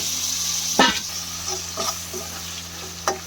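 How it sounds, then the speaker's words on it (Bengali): Shrimp fry in a pan with a steady, close sizzle, broken by a few stirring scrapes and clinks. "এখানে চিংড়ি মাছটাও ভেজে নিচ্ছি"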